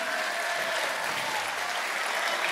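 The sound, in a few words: applause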